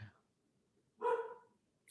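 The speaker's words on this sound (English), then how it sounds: "I just scared my dog by pounding on the desk like that" A dog startled by desk pounding lets out a single sharp, mid-distance bark after a brief thump, with quiet gaps around it and a faint sound at the end.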